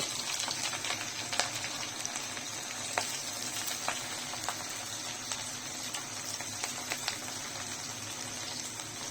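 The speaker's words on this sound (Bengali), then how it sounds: "এখন পেঁয়াজ রসুনটাকে ভালো করে একটু নেড়ে চেড়ে ভেজে নেব।" Chopped onion and garlic frying in a pan for a dried-fish and jackfruit-seed curry, a dense steady sizzle with scattered sharp crackles and pops, close and continuous for the whole stretch.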